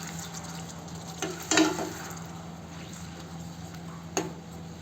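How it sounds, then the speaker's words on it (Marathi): A spinach and tomato paste simmers in a pan over low gas, a faint, steady bubbling sizzle beneath a low hum, with a couple of brief clinks from the pan. "कमी गॅसवर 1 मिनिट शिजू देऊ आपण."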